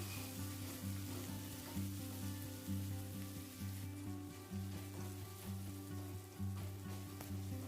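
Onion and garlic sizzle steadily in a pan while being stirred for a dry cabbage curry, with soft, regular stirring strokes over a constant frying hiss and a low background hum.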